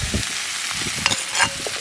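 Potatoes are stirred into a Jaffna-style mutton bone curry in a pot, giving close, loud scraping stirs over a low bubbling sizzle.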